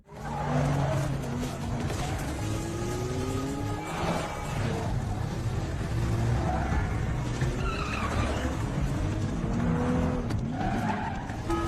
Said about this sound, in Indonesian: si Gondrong bersama anak buahnya menyusul menggunakan mobil dan aksi kejar-kejaran pun tak terhindarkan